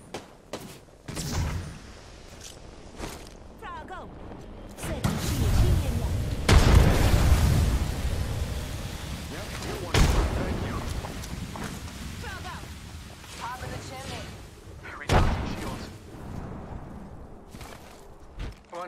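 Gunfire and booming blasts in the battle royale game Apex Legends come in loud bursts with quieter stretches between them, while players talk over the action.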